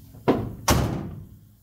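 Door of a 1976 Ford crew cab truck swinging shut twice in quick succession, two solid close thunks about half a second apart, the second louder with a short ringing decay.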